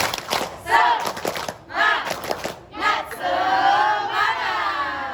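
A classroom of students performs a rhythmic spirit clap chant, bursts of clapping alternating with loud group shouting, building into a sustained collective cry toward the end.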